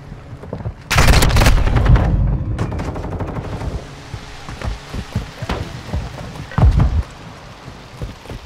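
Bursts of rapid automatic gunfire in Call of Duty: Modern Warfare 2, a loud dense volley near the start followed by scattered sharper shots and a second short burst later, with no talk over it.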